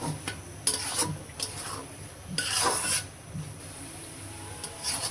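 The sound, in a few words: papaya mash being fried and stirred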